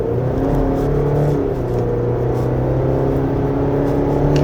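A 2025 Chevrolet Colorado Z71 pickup pulls away and accelerates on a winding road, its engine drone steady and loud from inside the cab, the pitch rising slightly as it gathers speed.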